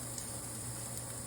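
Garlic and shallots sizzling gently in a pan for a seafood sherry cream sauce, a faint, even, continuous hiss with no voices.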